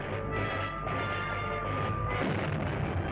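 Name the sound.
missiles exploding in old film serial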